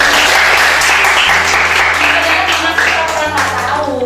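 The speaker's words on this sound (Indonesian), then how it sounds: "Oke, tepuk tangan dong buat Dimas." A classroom of students claps for a classmate after his turn explaining how a photocopier works, with dense, loud applause filling the room and a low hum beneath it.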